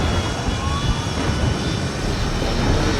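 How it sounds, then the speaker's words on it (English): A plane descends in a film, its jet engines producing a dense, continuous roar that stays loud and steady throughout with no voices. "While Delo looks for paper maps to navigate their path, the plane starts going down."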